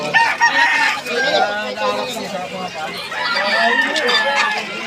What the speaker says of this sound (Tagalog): manok panabong yan. manok panabong na